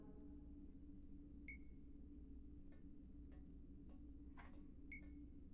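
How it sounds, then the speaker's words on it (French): Faint electronic beeping in the video game Dreamfall Chapters: two short, soft tonal beeps roughly three and a half seconds apart over a steady low hum, with a few faint ticks between them. "Alors j'entends un très léger bip."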